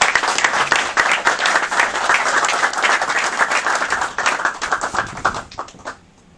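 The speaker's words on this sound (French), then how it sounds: "leur présenter les félicitations avec les applaudissements" Applause from an assembly honouring court presidents, loud and close with dense overlapping claps, sustained and then thinning out before stopping after about six seconds.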